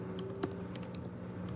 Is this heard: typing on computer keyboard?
yes